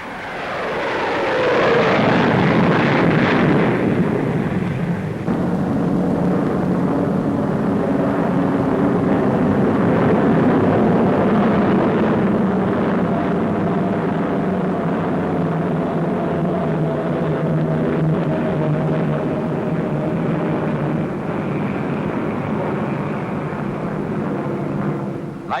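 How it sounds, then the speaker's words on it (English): Avro Vulcan delta-wing bomber flying at the Farnborough air show, a loud roaring jet engine rush that swells in as the aircraft passes and then holds as a sustained, fairly close drone. "the Avro Vulcan bomber was top secret at Farnborough"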